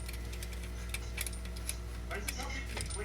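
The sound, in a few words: clicking sound from an assembled BMX wheel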